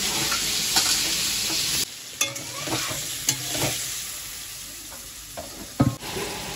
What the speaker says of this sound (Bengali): তো পনিরটাকে এবার মা ভালো করে ভেজে নেবে